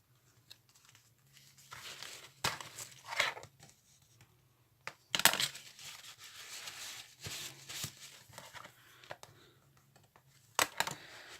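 Soft tearing and crinkling as stickers are peeled from their sheet, coming in short scattered rustles and sharper snaps, close and fairly quiet.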